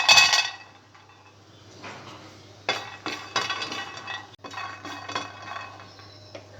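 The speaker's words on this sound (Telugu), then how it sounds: "స్టవ్ మీద ప్యాన్ పెట్టి పల్లీలను డ్రై రోస్ట్ చేసుకోవాలి." Peanuts dry roast in a pan on a stovetop, stirred with a utensil, producing intermittent clinking, scraping and rattling bursts against the metal, close and fairly loud, with brief pauses between strokes.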